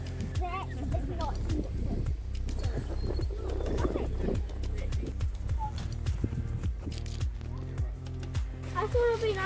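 Horses clip-clop along a hiking track on Banks Peninsula, with steady hoof beats under frequent talking and a few animal calls.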